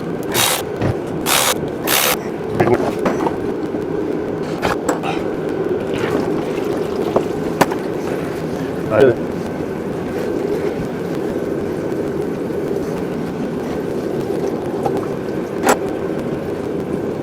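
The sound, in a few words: removing transmission oil pan bolts on a classic Wagoneer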